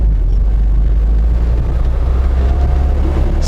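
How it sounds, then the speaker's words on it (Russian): Engine of a UAZ 452 van droning steadily from inside the cabin while it drives over bumpy ground, a constant low rumble with rattles and road noise, no talking. "Вот двигатель я слышу, я понимаю, что происходит. Я слышу, он работает, все нормально."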